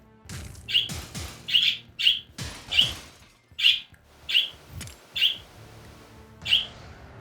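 Bright, happy bird chirps in the Wizard of Legend video game, about eight short sharp tweets spaced roughly evenly over several seconds, fairly loud and close against faint gameplay sounds.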